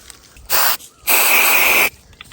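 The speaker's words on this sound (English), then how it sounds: "And I'm just gonna mark these with spray paint." Orange fluorescent spray paint from an aerosol can marks black walnut trees, first as a short hiss, then a pause and a longer, steady spray burst, close and loud.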